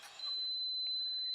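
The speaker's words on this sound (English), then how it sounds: "that's the alarm telling us we've overloaded the circuit" A steady high-pitched alarm tone from an Aims Power 600 watt pure sine power inverter overloaded by a heat gun, sounding continuously and fairly clear, with a brief higher chirp near the end.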